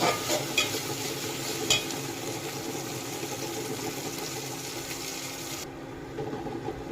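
Ginger garlic paste sautéing in a pan for egg masala, a loud, steady sizzle with stirring scrapes and occasional clinks that cuts off near the end.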